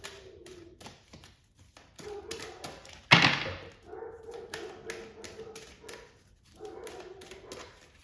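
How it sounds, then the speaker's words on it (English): Vocal dogs indoors give a few sharp barks and whimpers among soft taps and thumps, with one loud close bark standing out in the middle. "I have dogs and they are very vocal."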